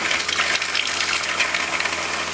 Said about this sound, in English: Now we're gonna go ahead and run our hot side and let the water run out of our hot lines